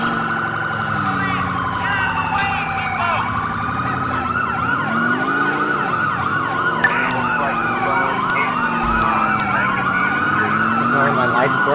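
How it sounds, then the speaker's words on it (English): A police car siren from the GTA IV LCPDFR mod with ELS wails loudly and continuously for the whole stretch, its overlapping rising and falling tones sweeping steadily over a low vehicle rumble, with no talking. "I love this siren."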